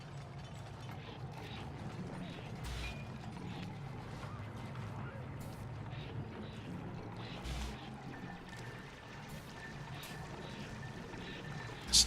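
A water purifier runs in the video game Oxygen Not Included, giving a faint, continuous mechanical churn with gear-like clicks and a pouring quality, steady throughout.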